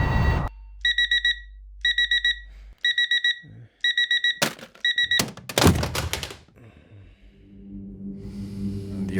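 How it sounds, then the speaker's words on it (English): An alarm clock goes off loudly in repeated beeping bursts, about five evenly spaced groups, followed by thumps, clatter and a low rumbling hum as the room stirs. "The alarm goes off."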